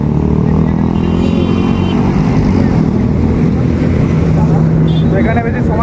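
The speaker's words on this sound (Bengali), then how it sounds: "দেখুন কত সুপার বাইক যাচ্ছে।" Several superbikes ride past on an Independence Day bike ride, a loud, continuous engine drone with whining revs building toward the end, heard close up along with wind noise and some talking.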